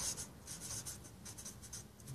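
Faint, soft scratchy strokes of math being written on a board during a linear algebra lecture, with short repeated rubbing marks and no talking.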